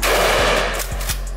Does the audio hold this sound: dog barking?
no